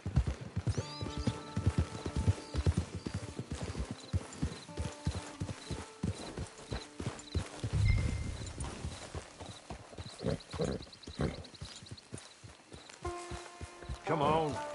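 Horse hooves clip-clop steadily in the video game Red Dead Redemption 2, with rhythmic footfalls mixed with game ambience, creaks and a short snort, and voices talking throughout.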